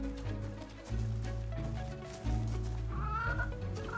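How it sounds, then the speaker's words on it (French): A hen clucks in the video game Reka, a series of short close clucks and squawks in bursts over a steady game music bed, with a higher squawk near the end. "il y a la poule qui se fait la malle, là"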